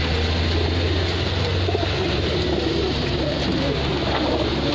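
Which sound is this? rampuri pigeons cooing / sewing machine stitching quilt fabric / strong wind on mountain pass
rampuri pigeons cooing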